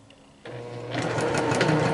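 A Juki sewing machine starts up and runs steadily while sewing down a quilt panel, a close, even mechanical whir that grows slightly busier as it goes.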